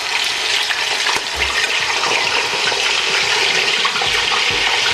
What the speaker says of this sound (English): I'm going to fry my beef first